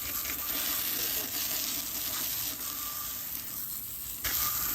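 Water spraying steadily onto car rims to rinse off chemical stripper and loosened clear coat, a continuous hissing wash with short bursts and dips, close and alone without talk.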